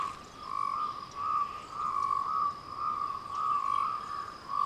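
Cape rain frogs calling in a steady rhythm of short, nasal croaks repeating about every half second, fairly close and clear over a faint background hum.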